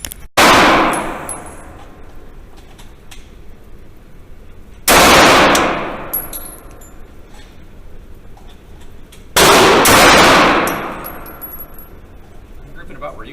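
A Remington R51 Gen 2 pistol is fired at a range, with three sharp, loud reports spaced several seconds apart, each ringing out and decaying with a long echoing tail.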